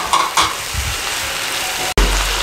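Chopped vegetables and cabbage cook in a pan for chicken macaroni, a loud continuous sizzle with stirring scrapes and a brief cut near the end.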